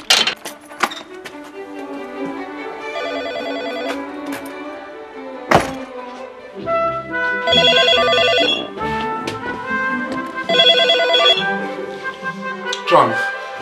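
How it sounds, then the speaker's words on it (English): A telephone bell rings in repeated bursts against soft background sound, with a thunk and clinks in between, in a documentary scene where a professor takes a call from a colleague. "Professor Nick Humphrey gets a phone call from a colleague."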